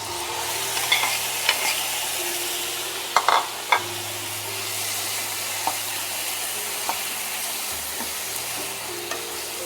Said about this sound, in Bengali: তেল গরম হয়ে গেছে, এখানে আমি ওই চিকেন আর চিংড়ি মাছগুলো আমি এর মধ্যে এবার দিয়ে দেব।